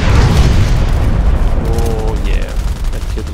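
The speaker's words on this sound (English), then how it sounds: "Oh, double mortars." Mortar shells exploding in the online shooter Contract Wars, a steady rumbling barrage of low booms and gunfire crackle throughout, with a voice talking over it.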